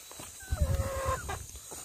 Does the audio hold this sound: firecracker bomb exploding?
no